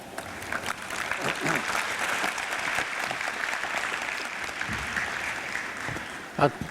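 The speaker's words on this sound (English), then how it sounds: "please welcome Dr. Ban Ki-moon to the podium with a big round of applause" Conference hall audience at a technology forum gives a broad, even round of applause as a speaker comes to the podium, steady clapping across the room with a louder thump near the end.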